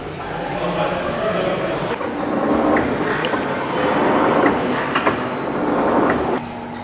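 TT scale model train running on its tracks, a continuous rolling clatter with rail clicks and faint wheel squeal, close, under people talking.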